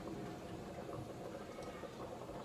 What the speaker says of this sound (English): So when you put that into a hot pot, it instantly boils.